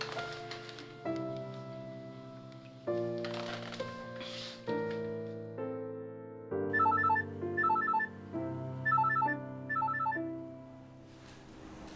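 A mobile phone rings with a melodic ringtone, repeating a short tune of bright tones and chime-like notes at a moderate, somewhat quiet level, with no talking.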